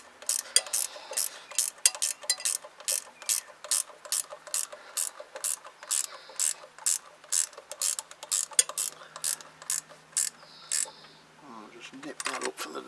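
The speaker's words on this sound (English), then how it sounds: "They're good, these ratchet spanners" A ratchet spanner tightens bolts during assembly of a Zontes Tiger 125 motorcycle, giving a steady run of sharp, close clicks in quick rhythmic bursts for several seconds, with a brief pause and a little handling noise near the end.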